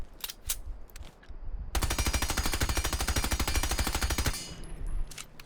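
Sledge's rifle fitted with a compensator in Rainbow Six Siege fires a sustained automatic burst of rapid, evenly spaced shots lasting a few seconds, preceded and followed by a handful of single shots and quieter handling noise.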